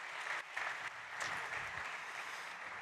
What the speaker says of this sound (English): please, big applause to Ramiro